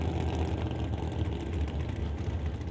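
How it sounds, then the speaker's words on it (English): A 1968 Chevelle drag car with a Ritchie Racing engine rumbles loudly and steadily at low speed as it backs up after a burnout at an outlaw drag racing shootout, the deep engine drone continuous with no one speaking. "Brian Ritchie backing up from his burnout. Ritchie Racing Engine, 68 Chevelle."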